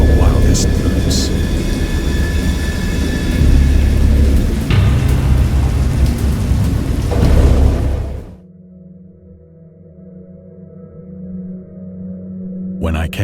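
Heavy rain pours with deep rumbling thunder in a video game, loud and continuous, then abruptly drops away to a quiet low hum.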